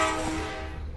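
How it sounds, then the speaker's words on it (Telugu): Train horn blaring loud and close from a train about to depart, a sustained harmonic blast that fades slightly over one second. "ఎందుకంటే హార్న్ కొట్టేశారు."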